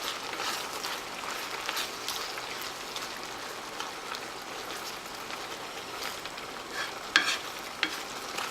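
Food stir-frying in a wok in a home kitchen, a steady crackling sizzle with scattered sharp pops and a couple of louder spatters near the end, close and continuous with no voices.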